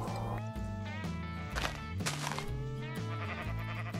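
Sheep in the Minecraft game bleat several times in quick succession, loud and near, layered over continuous background music with a few dull thunks.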